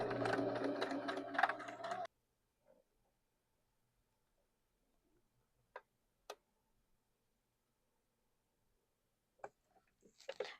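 A sewing machine stitches a quarter-inch seam allowance using a presser foot with a guide, running in a loud, close burst for about two seconds. Then it stops, leaving near silence broken by a few isolated clicks.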